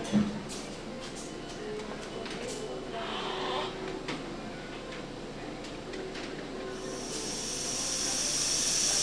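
Compressed air leaking at a pop-off valve on a plant's holding tank gives a faint, steady hiss that swells into a louder, brighter hiss near the end, with soft background noise.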